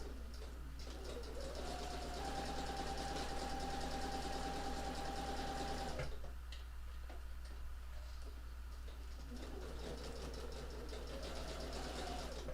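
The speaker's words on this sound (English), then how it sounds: "I'm gonna keep on sewing here because I have more to do." A sewing machine stitching a quilt block, heard as a faint, steady mechanical hum with soft regular ticking, running continuously with a brief change in pitch midway.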